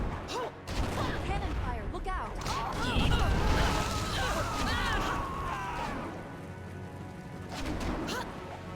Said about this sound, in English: Cannon fire, look out!